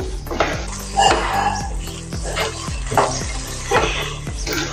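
Sev being stirred into cooked tomato masala in a pan: a rhythmic run of spoon scrapes and knocks against the pan over a soft sizzle, close and clear, with no talking.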